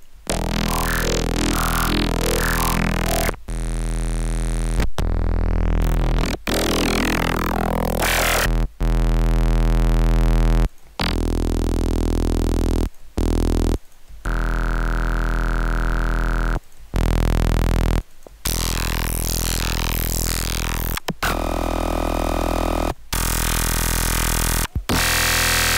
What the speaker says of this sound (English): it's just crazy different types of distortion